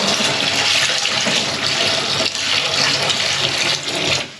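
Water poured from a blue tote into a homemade off-grid composting toilet, giving a loud, steady splashing gush that runs continuously for a few seconds with no talking.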